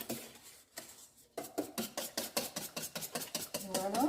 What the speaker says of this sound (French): je vais bien mélanger le tout